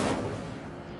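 An Incendio fire spell cast in Hogwarts Legacy erupts as one loud, close, rushing blast that fades gradually over a second, with no one speaking.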